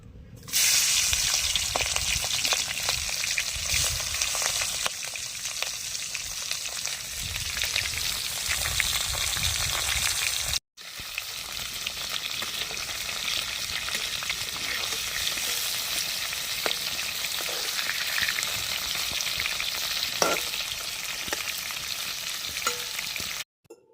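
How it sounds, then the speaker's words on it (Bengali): Prawns fry in hot oil, a loud continuous crackling sizzle close by with brief stirring scrapes. It drops out for a moment midway, then resumes just as strongly. "তেলটা এবার তেতে গেছে, এবার আমি সব মাছগুলো একবার দিয়ে ভেজে নেব"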